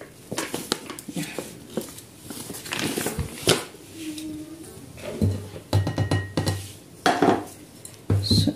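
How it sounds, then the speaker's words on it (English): Gram flour batter being stirred in a bowl for Swahili pakora, with irregular clinks and scrapes of a utensil against the bowl, fairly close and clear, and a few light knocks between strokes. "So I'm going to stir like that."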